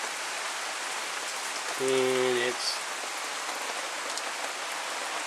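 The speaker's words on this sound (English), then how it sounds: "the rain started coming down a lot harder" Heavy rain pours down outdoors in a steady dense hiss, close and loud throughout, while someone briefly speaks over it.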